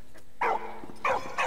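A dog barking in the World War I video game Valiant Hearts: The Great War, with three short, fairly loud barks spaced apart against a quiet game background.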